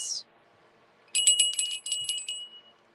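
A small decorative bell shaped like an upside-down bluebell flower, with a branch-like handle, rings in a quick series of bright, high, shimmering strikes. The ringing sounds close and clear in a quiet room, with a short faint tinkle just before.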